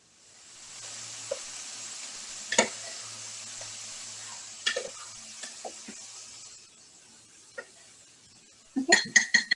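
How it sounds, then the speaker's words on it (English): A utensil stirs pasta sauce in a crock pot, giving a few sparse, light clinks and scrapes against the pot at close range, with a quick cluster of clinks at the end. "just give that a quick stir"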